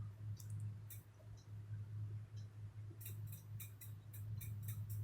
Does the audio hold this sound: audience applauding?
no